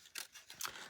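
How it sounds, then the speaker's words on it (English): Scissors snip through paper while trimming a craft treat box, two quick close cuts with a soft crisp slicing sound in a quiet room. "we're going to have to trim this little bit here"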